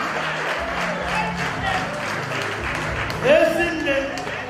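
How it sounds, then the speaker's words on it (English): A church congregation claps for a woman at a prayer service, a steady wash of applause that swells briefly, with a voice speaking over it. "A round of applause for Mama."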